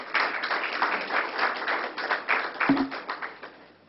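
Audience applause at a telecoms regulator's recognition and award ceremony, a steady patter of many hands clapping at moderate loudness with a slightly muffled quality.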